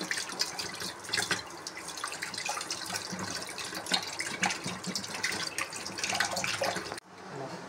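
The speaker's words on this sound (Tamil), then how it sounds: "நல்லா தண்ணி நிறைய ஊற்றி நல்லா கழுவிக்கலாம்" Water runs steadily from a tap while fish is rinsed for a fish thokku dish, a constant splashing rush with small irregular splatters that cuts off near the end.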